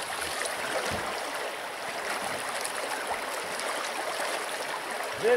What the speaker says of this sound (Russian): Вот такой он. Таежный. Таежный ручей.